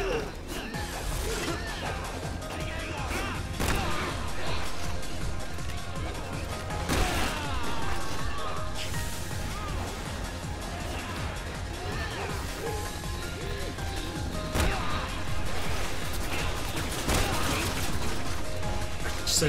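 Gunfire from the most powerful gun in Resident Evil 6 Mercenaries No Mercy, fired as Piers Nivans, in dense continuous bursts blended into busy game noise, with a few sharper blasts standing out.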